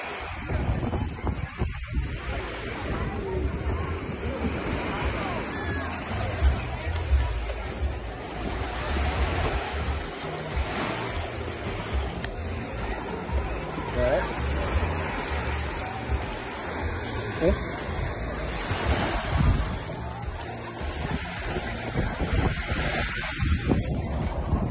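Ocean waves washing onto a beach during a cruise stop, a continuous rushing surf roar mixed with wind buffeting the microphone, fairly loud and steady throughout, with faint voices now and then.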